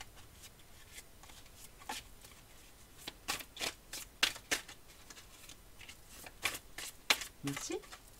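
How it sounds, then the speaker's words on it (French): Oracle cards are shuffled by hand during a reading, giving a series of quiet, crisp riffling and sliding bursts in an irregular rhythm, with a soft voice briefly near the end. "Je vais prendre une carte du Vision Quest et une carte de mon oracle pour clôturer."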